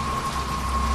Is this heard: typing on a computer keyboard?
no